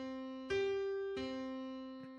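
A tritone-free perfect fifth interval, two tones seven semitones apart, played as short clean sustained notes in a music-theory lesson for producers, a few separate soft note onsets with a quiet decaying tail and no talk.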